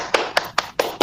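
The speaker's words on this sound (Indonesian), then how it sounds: "Beri tepuk tangan semua" Five separate sharp claps ring out at an even pace in a classroom, close and fairly loud, each one short and distinct.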